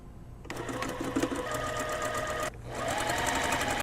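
A sewing machine stitches an elastic casing on a puffy sleeve, running in two close, loud bursts of rapid needle chatter separated by a very short pause.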